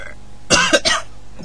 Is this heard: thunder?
no